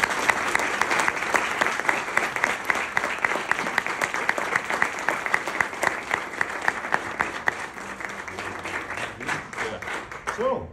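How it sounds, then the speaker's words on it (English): Sustained audience applause at a baseball team meeting, dense and even, with many hands clapping continuously for about ten seconds before thinning out near the end. "Let's give him a round of applause."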